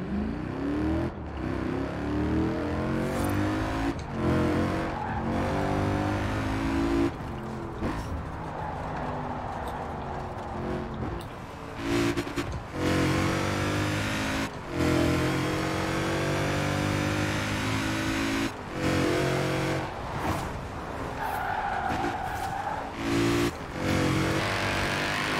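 Audi RS4 engine in the racing game Forza Horizon 4, revving hard through repeated upshifts with brief gaps at each gear change, a loud continuous drag-race roar heard from the cockpit.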